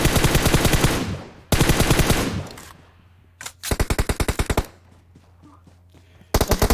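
Automatic gunfire in PUBG Mobile rattles in several loud, close, rapid bursts separated by short pauses, with a quieter background hum between volleys.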